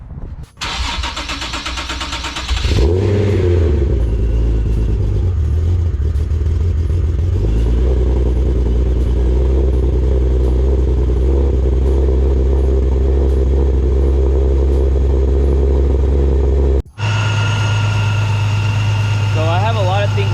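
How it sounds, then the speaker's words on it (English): A Nissan 370Z fitted with a Pro Charge air-to-air supercharger cold starts with a loud starter crank and a sharp rev flare, then settles into a steady, high fast idle that cuts briefly near the end and resumes, close up. "let's get a cold start on the Z"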